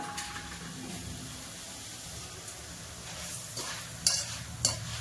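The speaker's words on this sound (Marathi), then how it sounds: "तेल तापलेलं असलं की पटकन पोहे फुलतायत" Poha flakes frying in hot oil, a steady close sizzle and bubbling hiss with a couple of sharper scrapes near the end, no voices.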